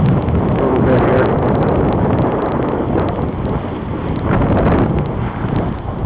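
Strong, steady wind roars across a sailboat at sea on the passage to Niue, a broad continuous rush of about 18 to 20 knots that surges and buffets the microphone with no break.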